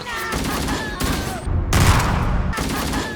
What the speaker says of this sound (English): they swapped out the battle rifle sound effect for the assault rifle sound effect